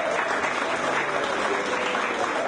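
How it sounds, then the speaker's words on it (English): Dense, continuous applause from the audience at the Saltibus Combined School Class of 2024 graduation ceremony, a loud even roar of many hands clapping for the graduates with no voices over it. "Let us give the graduates a round of applause yet again."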